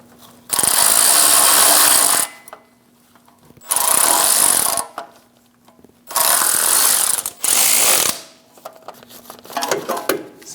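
A power tool snugs down the starter terminal nut on a Chevrolet Express 2500 van, firing in four loud close bursts of about one to two seconds each, separated by quiet gaps.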